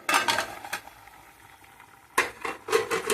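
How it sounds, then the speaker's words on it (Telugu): Chicken curry bubbles and sizzles in a pan, with two bursts of clattering stirring near the start and end around a quieter stretch of low simmering. "చూడండి కూర ఎలా ఉడుకుతుందో నేను చూస్తున్నాను ఇప్పుడు"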